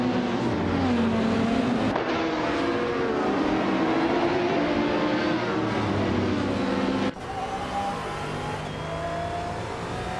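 Race cars, a 2010 Alfa Romeo 8C GT3 among them, roar past on the circuit with loud sustained engine drone and shifting revs, with an abrupt change in engine note partway through and no talking.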